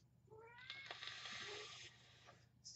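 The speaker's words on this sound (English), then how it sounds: "It's the cat." A domestic cat meows in a long, drawn-out, wavering call lasting about two seconds, fairly close and clear, followed by a brief shorter sound at the end, with no talk over it.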